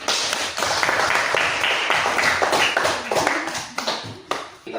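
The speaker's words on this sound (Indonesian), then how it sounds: "Yuk, kasih tepuk tangan buat Novanya." A school class in Indonesia claps hands for a classmate during a lesson, a brisk run of sharp, fairly close claps, uneven in rhythm, that thins out and turns into a few scattered claps toward the end.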